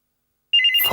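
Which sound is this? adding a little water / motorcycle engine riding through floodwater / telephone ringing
telephone ringing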